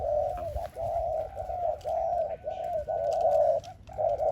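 A decoy dove used for bird trapping coos in a steady run of low, hollow, evenly spaced notes, close and clear over faint background noise.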